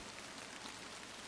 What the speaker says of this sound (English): It felt as though the sound of the rain tapping against the window was telling me to hurry on home.